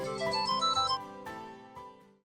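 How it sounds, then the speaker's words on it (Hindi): A special phone ringtone plays a bright, melodic electronic tune for a couple of seconds, fairly close and clear, fading out at the end with no one talking over it. "दीदी, जीजा जी के लिए स्पेशल रिंगटोन।"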